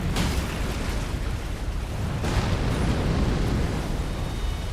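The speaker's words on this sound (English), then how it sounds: "then an explosion is gonna damage you." A loud, sustained explosion roars in the Elden Ring game, a dense rumbling blast with a second surge partway through, filling the clip with no speech over it.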